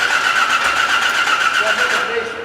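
A drag race car's engine sputters and puffs unevenly near and loud, a steady rough running tone with pulsing beats that eases slightly at the end.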